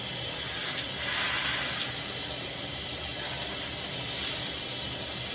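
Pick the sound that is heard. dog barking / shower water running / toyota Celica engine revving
shower water running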